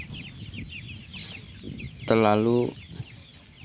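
Free-range village chickens cluck and call near a coop, with one loud, drawn-out squawk standing out close by while someone talks over the scene.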